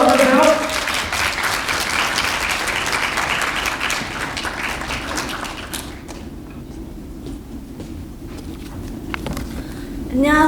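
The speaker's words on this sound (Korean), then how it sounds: "큰 박수로 맞아주세요." An audience gives loud, steady applause to welcome a pharmacy student speaker, the clapping thinning partway through before swelling again at the end.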